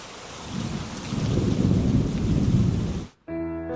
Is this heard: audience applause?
no